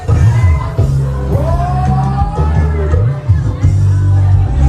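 A packed, noisy crowd at a busy hotel restaurant, dense babble with shouts and loud hubbub filling the space continuously, with someone talking over the din.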